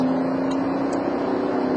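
A 2011 BMW X6 engine pulling under throttle from around 60, a steady droning hum with a constant tone, heard from inside the cabin with no talking.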